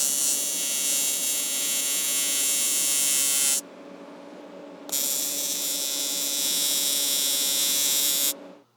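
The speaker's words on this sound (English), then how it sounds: "It's going to be tacking with a TIG that shouldn't spark." A TIG welder tacks an aluminum roll cage mount for a 50cc big bore engine, giving a loud, steady electric buzz that holds for several seconds, drops briefly, then returns before cutting off.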